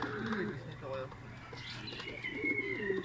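Racing pigeons coo outdoors at a training toss, several soft rolling coos overlapping while someone talks over them.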